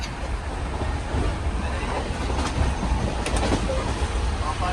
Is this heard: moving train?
yes